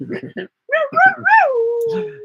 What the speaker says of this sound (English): And he's very whiny and howling.